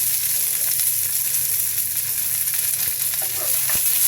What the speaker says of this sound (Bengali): এখন ড্রাই ফ্রুটগুলো দিচ্ছি, বাদাম কুচি